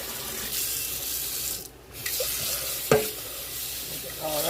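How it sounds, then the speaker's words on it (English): Boiled potatoes and their cooking water poured into a colander in a kitchen, a steady rushing splash of water with a brief break and a sharp clunk partway through. "now our potatoes are ready, and I am going to pour them in the colander"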